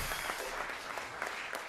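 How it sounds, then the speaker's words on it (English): An audience applauds a drummer introduced at a live band gig in a cultural centre, a steady wash of clapping filling the short moment without a break. "Please give him a big round of applause on drums."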